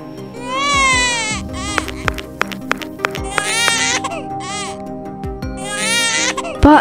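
A newborn baby cries at night in the bushes in repeated wailing bursts, loud and close, with pauses between the cries and faint background noise.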